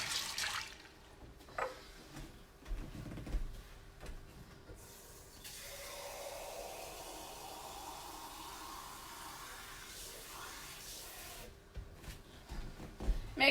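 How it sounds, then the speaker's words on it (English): Water runs steadily for several seconds as dried beans for refried beans are washed. There is a quiet rustle and clatter before and after the rushing flow. "I like to make sure I look through them and wash them off a little bit."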